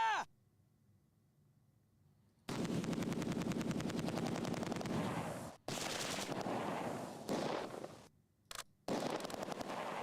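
Rapid bursts of MG42 machine gun fire in Close Combat 2, loud dense rattling volleys broken by short silent gaps, with sharp shots at the start and end.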